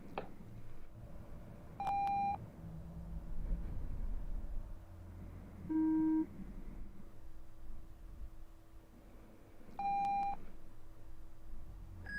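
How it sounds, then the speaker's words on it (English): Two short, pure electronic tones of a hearing test sound in the ear several seconds apart, with a softer lower beep between them, over faint hiss and low rumble in an otherwise quiet room. "I want you to pay attention to the beeps that you hear in your left ear"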